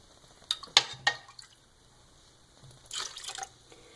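Cooled rice water is poured onto rice in a container, giving a few short drips and splashes and then a brief trickling pour, fairly close and quiet.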